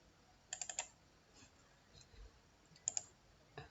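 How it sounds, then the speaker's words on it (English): A computer mouse clicks with quick, crisp, faint taps: a rapid cluster near the start, a close pair later and a final single click. "just double click over there."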